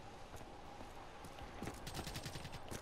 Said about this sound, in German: Oh, ich höre schon wieder die Schüsse.